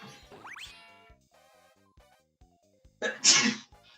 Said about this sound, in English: That was a bad time to have to sneeze, too.